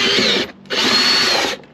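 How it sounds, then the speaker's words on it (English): A Ryobi power drill bores a half-inch hole down through plastic panelling during a Rugged Radios install in a Can-Am Defender, running loud and close in two sustained whining bursts separated by a brief pause. "I'm gonna drill her right down through here."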